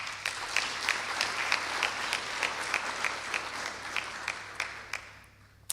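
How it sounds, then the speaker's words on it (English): Applause from the audience at a hackathon awards ceremony and gala dinner, a steady wash of many hands clapping with sharper individual claps standing out in a regular rhythm, fading out toward the end. "I think they deserve a round of applause"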